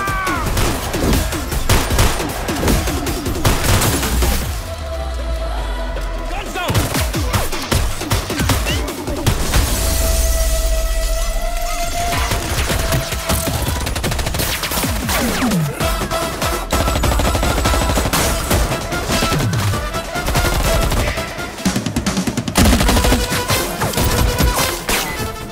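Sustained heavy gunfire in an action film scene, rapid overlapping shots with crashes and booms across a loud, dense soundtrack.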